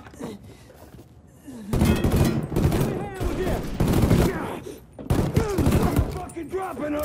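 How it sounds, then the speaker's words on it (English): Gunfire in the video game Mafia III: bursts of shots and heavy thuds break out after a quieter start, loud and close, mixed with shouting voices in the fight. "We're getting shot up!"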